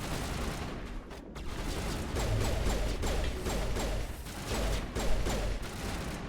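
Rapid gunfire from a Mass Effect firefight, with repeated bursts and sharp mechanical shots crackling close and loud over a low rumble, with no voices.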